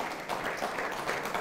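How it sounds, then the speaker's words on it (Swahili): An audience applauds a young student speaker after a Swahili arts performance at Upperhill High School, a steady brief burst of clapping heard at moderate distance. "mpige makofi ubingwa"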